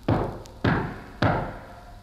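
Three firm knocks on a cottage door beneath oak trees in a German fairy-tale radio play, evenly spaced about half a second apart, close and hollow with short decays and no talk.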